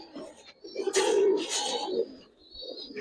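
A pigeon coos in a loft, giving a few close, throaty calls in a short burst before falling quieter, with faint voices in the background.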